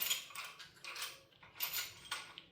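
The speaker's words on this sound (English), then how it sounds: "Making sure I got all these bolts loose." Hand tool working loose bolts during bottom end removal on an LS LY5 engine, repeated close ratcheting and creaking clicks in short bursts, fairly quiet with no talk.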